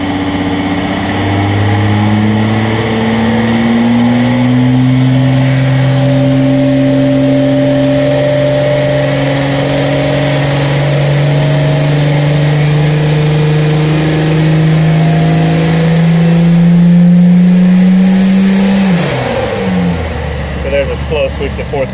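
Car engine on a dyno sweeping slowly up toward 4,000 RPM, a loud rising drone climbing steadily for about eighteen seconds before the revs drop sharply; no speech over it.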